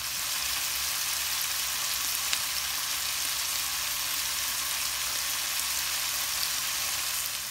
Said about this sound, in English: You want to saute this for about 2 minutes just to get everything incorporated